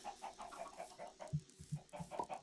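Chickens in the Minecraft video game cluck in quick, soft, repeated bursts, fairly faint and with no voices over them.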